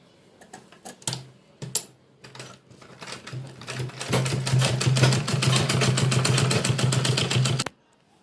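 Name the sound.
sewing machine stitching a vegetable organiser bag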